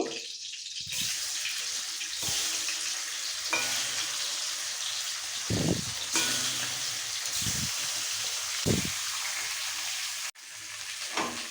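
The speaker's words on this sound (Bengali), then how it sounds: "এইভাবেই মাছগুলো সব ভেজে নেব" Bhetki fish pieces fry in oil with a steady, close sizzle that runs throughout. Occasional soft knocks and scrapes break in as the pieces are moved or turned in the pan.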